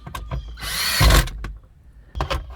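A power drill drives screws into a Honda Pilot center console, with short whirring bursts, one long buzzing run peaking with a thud, then a pause and another brief burst, heard up close.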